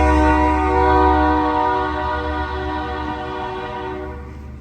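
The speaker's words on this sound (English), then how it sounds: "Fuck you, train." A train passes nearby and sounds a loud, sustained horn with rich tones that slowly fade as it moves away, with no talk over it.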